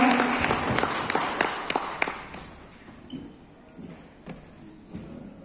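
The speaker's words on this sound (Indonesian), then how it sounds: "Boleh beri tepuk tangan yang luar biasa." Audience applause at a regional labour dialogue event starts full and fairly loud, then quickly thins to scattered individual claps over low room noise.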